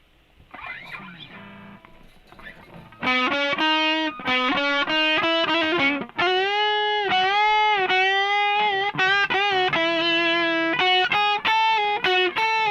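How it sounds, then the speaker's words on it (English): Electric guitar played through a distortion pedal, sustained saturated chords and bends ringing loudly and continuously after a quieter opening. "And they both use the same distortion pedal."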